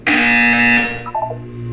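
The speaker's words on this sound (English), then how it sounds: "When you hear the buzzer, look down at the floor." A loud electronic buzzer from the Portal 2 video game sounds as one sustained harsh tone, then breaks into a few short stuttering pulses before fading into a low hum.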